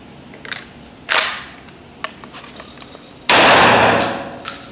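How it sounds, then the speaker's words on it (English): A Beretta 1301 Mod 2 shotgun fires a musket round, giving a loud, sharp blast with a long decaying tail, preceded by a few smaller clicks and a shorter bang earlier on. "I just shot a musket round."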